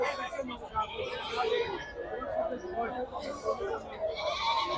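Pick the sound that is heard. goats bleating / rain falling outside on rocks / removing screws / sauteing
goats bleating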